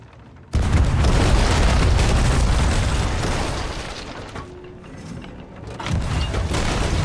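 Ship cannons firing in the pirate video game Sea of Thieves: a sudden loud boom that rolls into a sustained roaring rumble, easing off midway before swelling again.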